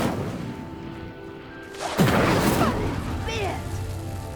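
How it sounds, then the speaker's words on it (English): The Incendio fire spell in Hogwarts Legacy ignites a pyre: a sudden loud whooshing burst of flame cuts through the steady game ambience partway through, trailing off into a shimmering, crackling tail. "The flames make the pyre sink."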